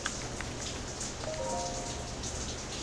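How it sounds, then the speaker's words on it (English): Steady rain patters on a surface in the video game The Legend of Zelda: Tears of the Kingdom, a dense, even hiss throughout with no talking. "it started raining good and proper now. So I hope that's not too loud."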